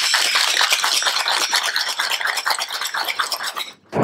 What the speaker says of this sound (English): What we're going to do is shake that all up together.